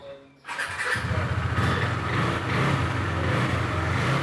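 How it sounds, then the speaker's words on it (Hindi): Motorcycle engine starting on a long-distance touring ride: a short cranking burst, then the engine catches and settles into a steady, close idle with a faint squeal, no speech. "हो गई है बाइक स्टार्ट।"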